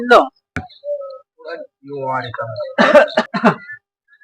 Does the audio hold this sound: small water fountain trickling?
no